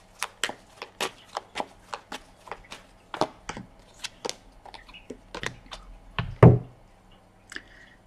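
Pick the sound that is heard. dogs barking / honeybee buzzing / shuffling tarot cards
shuffling tarot cards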